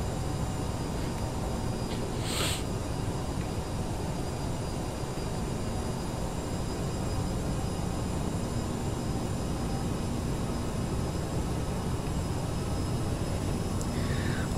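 In MSFS 2020, a simulated CRJ-900 jet on landing approach with full flaps and increased thrust gives a continuous, even engine roar throughout, with one brief faint click early on.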